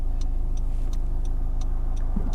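A Honda Civic 1.6 i-DTEC diesel engine drones steadily from inside the car while driving, a low continuous hum with a faint regular ticking above it, no voices.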